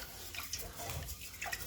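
Rice is rinsed in water before cooking, with soft sloshing and dripping swirls, close and moderately quiet, in short uneven bursts and no talking.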